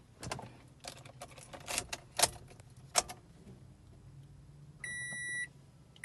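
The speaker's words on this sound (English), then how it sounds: "so turn on the ignition" Keys jangle and clink several times while a 2012 Toyota Camry's ignition is switched on, followed by a short series of electronic chime beeps, all quiet and close with no talking.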